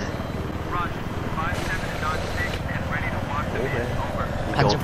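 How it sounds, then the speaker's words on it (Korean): A helicopter flies in the Battlefield 3 co-op video game, making a continuous rotor thrum and whine. Players talk over it throughout. "이게 네가 조종이 돼. 헬기죠."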